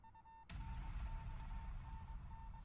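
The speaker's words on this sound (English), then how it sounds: "an incessant beeping, like from a telegraph." Within the video game Spirit Hunter: Death Mark, a thin, steady beeping repeats like a telegraph signal, faint and continuous, while a louder low rumble comes in partway through.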